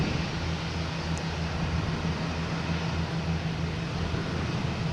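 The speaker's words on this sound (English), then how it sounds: "So here's United taking off." A United airliner taking off from Boston Logan Airport toward San Francisco, producing a continuous, loud jet roar with a low droning hum that holds steady without any talk.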